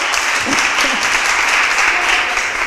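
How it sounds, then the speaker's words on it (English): A crowd at a community sickle cell awareness event applauds in a loud, continuous wash of clapping, with a few voices calling out near the start. "Let's make a round of applause."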